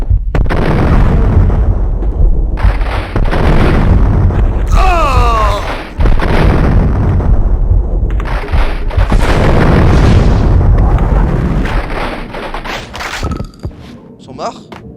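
A grenade and other blasts in the Max Payne video game burst out as several heavy booms amid gunfire, loud and close, with a voice talking over parts of the action.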